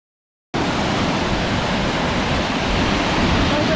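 Glacial meltwater rushes loudly down the Hraunfossar waterfalls in Iceland, a dense, steady roar that starts abruptly after a brief silence and continues unbroken, close and full.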